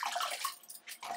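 Spinach greens are swished and rinsed in a vessel of water. The splashing and sloshing is close and moderately loud. It eases briefly and then picks up again, with no talking.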